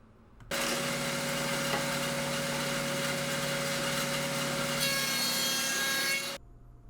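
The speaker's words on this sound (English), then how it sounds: "I use a 1/2 inch dado blade and my miter fence with a stop block on it to cut a dado every 2 inches" A table saw fitted with a half-inch dado blade cuts a dado across plywood, a loud steady whining grind lasting about six seconds that starts and stops abruptly, with the pitch shifting slightly near the end.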